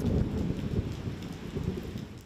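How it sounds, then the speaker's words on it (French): Heavy rain during a thunderstorm: a steady, dense broadband hiss of downpour continues throughout at moderate loudness, with low rumbling underneath and no voices. "des fois gros la pluie et des fois ban averse accompagné de ban l'orage"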